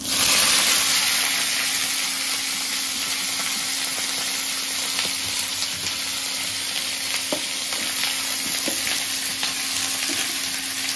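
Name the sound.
potatoes and vegetables frying in a pan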